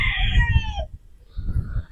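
A broodstag fighting rooster crows once up close, a loud strained call that breaks off partway, followed by a fainter second cry amid low background noise.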